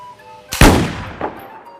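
Toy shotgun fired once up close, a sharp loud crack with a short decaying tail, followed by a fainter second click or pop, no talking.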